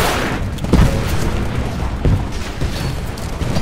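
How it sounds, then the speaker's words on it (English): Flak and explosions in the Titanfall video game during a campaign battle: a dense, continuous rumble of booms and muffled blasts, with a few stronger hits standing out. "We're taking a lot of flak."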